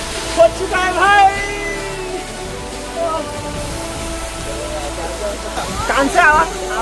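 Steady broadband rush of a cold waterfall's flowing water fills the background near Manali, Himachal Pradesh, with voices shouting and talking over it at moments.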